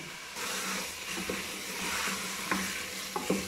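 Okra (bhindi) stir-fried in a pan breaks into a steady hiss and sizzle after a brief quiet start, with a few clinks and scrapes of the spatula near the end, close and fairly soft.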